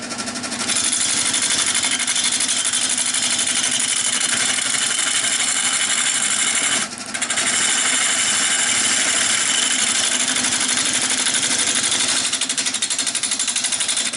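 A power cutting tool chews steadily through end grain wood, a loud, continuous buzzing drone with a brief drop near the middle before resuming at full strength.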